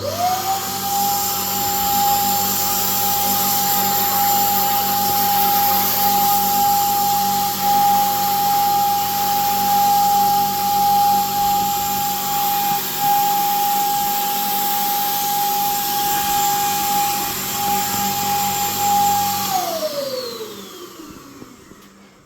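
Cheap electric paint sprayer spraying water-based satin wood paint over an existing oil-based finish: a loud, steady motor whine held for about nineteen seconds before the pitch drops as it winds down.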